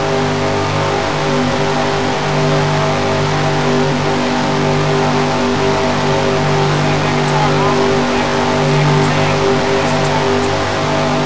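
Onboard race car engine in the NASCAR SEGA video game, a loud steady high-revving drone with constant tone, holding at full throttle throughout.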